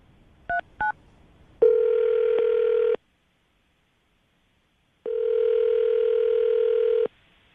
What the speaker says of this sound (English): I'm going to dial the phone number right now